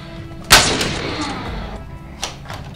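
Gunshots in a Halloween 'bad mom' horror skit: one loud, sharp bang followed by a decaying rumble, then a second, weaker crack about two seconds later, with no talking.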